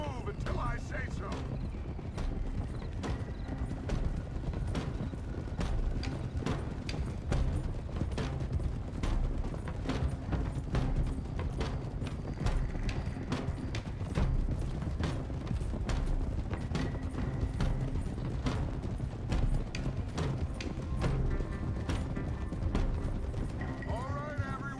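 Horses' hooves clip-clop in a steady rhythm through a ride in the video game Red Dead Redemption II, several mounts trotting together close by under gear rattle, with voices talking over them.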